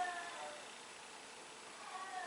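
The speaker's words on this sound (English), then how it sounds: "My cat is meowing again." A house cat meows faintly at night somewhere in the background, two short, thin calls at the start and end of an otherwise quiet room.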